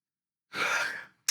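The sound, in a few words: almost a sneeze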